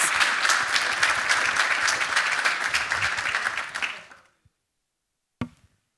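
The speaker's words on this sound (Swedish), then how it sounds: "jag tycker vi ger dem en applåd" An audience gives a lively round of applause at an education talk, steady for about four seconds before dying out abruptly, followed by a single faint knock.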